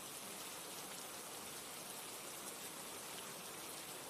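Steady, even rain hiss with a dense patter of drops, constant and moderately distant, no voices.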